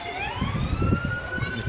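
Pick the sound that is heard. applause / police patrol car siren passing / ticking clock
police patrol car siren passing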